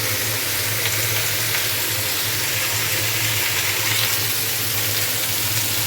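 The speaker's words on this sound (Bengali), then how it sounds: "এখানে হচ্ছে আলু ভাজছি, আর এখানে এঁচড় ভাজা হচ্ছে" Potatoes and jackfruit frying in separate pans on a gas stove give a steady, close sizzle that holds without a break, with no talking.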